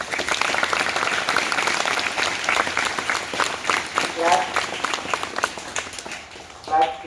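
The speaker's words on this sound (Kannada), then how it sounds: "ಚಪ್ಪಾಳೆ ತಟ್ಟಲ್ಲ" An audience claps at a Green Valley Public School event, a steady patter of many hands that rises and falls, with a voice mixed in.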